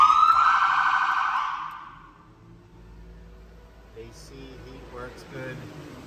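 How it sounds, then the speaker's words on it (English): A loud wailing siren on a Dodge RAM ProMaster ambulance sounds for about two seconds, then cuts off, leaving a low engine rumble and faint background noises. "The siren works."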